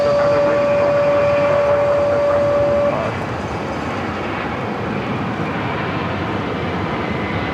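An American Airlines airliner rolls down the runway at LAX, a loud, steady broadband roar of engines and rumble with a thin whine that drops away after about three seconds, continuing as a sustained wash of noise.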